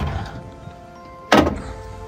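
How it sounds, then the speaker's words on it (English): BraunAbility manual fold-out ramp on a 2014 Dodge Grand Caravan being lowered: a quiet rattling lead-in, then one sharp close clunk as the ramp comes down, with faint rattling afterward. "And then you can bring down the ramp from this position."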